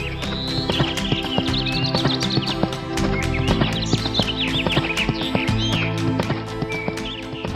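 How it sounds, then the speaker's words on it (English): A horse clip-clops away at a brisk, regular trot in a cartoon fairy tale, hoofbeats loud and close over lively music with bird-like chirps, no voices. "And so Morris leapt on his horse Philip and rode off."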